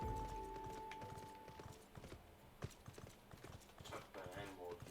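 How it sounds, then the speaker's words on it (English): Hooves clip-clop at a steady walking rhythm from a golden living-metal horse mount in Final Fantasy XIV, moderately close and continuous under someone talking. "I'm gonna ride my golden living metal horse to the"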